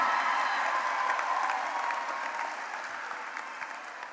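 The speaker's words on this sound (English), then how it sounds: "Let's give them a round of applause." A graduation ceremony audience breaks into sustained applause, a steady wash of clapping from a large crowd that holds evenly and fades slightly toward the end.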